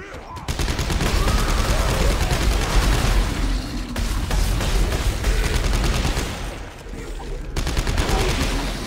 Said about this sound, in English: Why are you even shooting, Val?